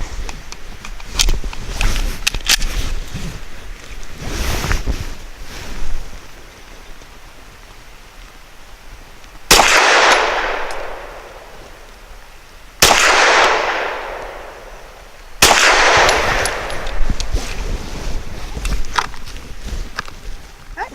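A CZ P10C pistol fires Winchester 90 grain full metal jacket rounds outdoors, three sharp, loud reports spaced a few seconds apart, each with a decaying tail, over light background rustle and earlier faint pops.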